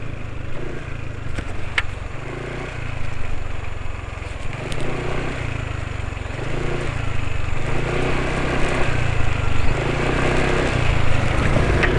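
A scooter engine idles steadily close by after an oil change to Vrooam 10W40 4T JASO MA oil, with a low, rhythmic, slightly uneven pulsing hum and no voices over it.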